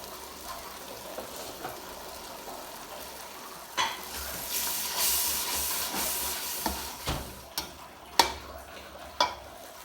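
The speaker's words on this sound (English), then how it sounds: "And then the tomato paste, I have to fry it until it is complete." Tomato paste fries in a pot for jollof rice, a hissing sizzle that swells and fades, punctuated by several sharp clinks and scrapes of stirring against the pot, close by, with no talk.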